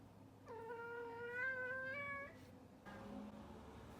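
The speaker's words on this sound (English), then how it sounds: "there are a lot of neighborhood cats, especially at night" A neighborhood cat at night gives a long, drawn-out meow with a rising and falling wail, followed by a shorter, lower call, heard faintly at a distance against quiet surroundings.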